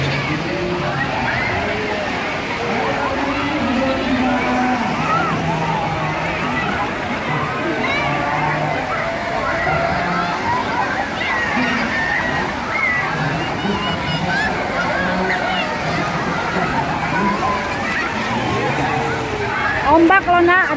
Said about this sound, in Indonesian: Ombak loh nak, ada ombak nak.